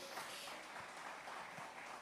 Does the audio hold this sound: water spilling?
no